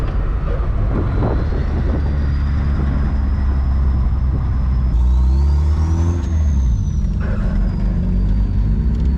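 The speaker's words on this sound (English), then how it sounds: "Now we get the downshift and hear the whistle." A loud 1st-generation Volkswagen Caddy engine roars and shifts down after a rebuild, its pitch dropping and rising, while a thin high turbo whistle sweeps above the rumble.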